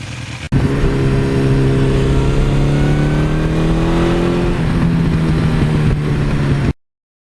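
A 1982 Suzuki GS1100E motorcycle engine pulls hard while riding, a loud, close four-cylinder drone that rises steadily in pitch under acceleration, then holds before cutting off abruptly.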